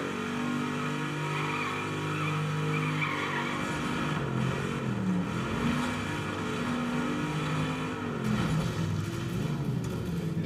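Off-road vehicles race in the Baja Edge of Control video game, engines droning and revving in layered steady tones while tires skid and scrub across dirt and asphalt, loud and continuous with no voices.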